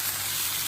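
Tomato and green chili hit a pan of browned frying onions, giving a short steady sizzle with a small scraping stir at the end.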